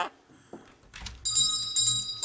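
A shop door bell rings with bright, sustained metallic tones after a few soft knocks, sounding twice in quick succession close by.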